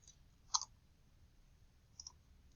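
Two crisp computer mouse clicks in a quiet room, one sharp double click near the start and a fainter one a second and a half later, over a soft low hum with no speech.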